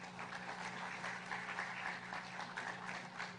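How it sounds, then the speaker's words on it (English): Crowd applause at an outdoor ceremonial groundbreaking for a coastal urban development in Cebu City, a soft, dense wash of clapping at a distance over a steady low hum. "Can we give ourselves a round of applause?"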